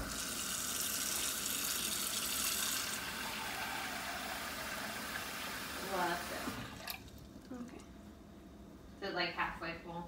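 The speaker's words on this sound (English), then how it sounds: "let's fill it up with water" Running tap water pours into a container with a steady rush, then stops; voices speak briefly near the end.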